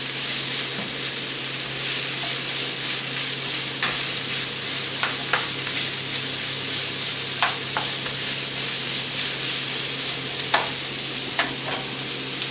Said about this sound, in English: So you're just going to saute this so everything softens up a little bit.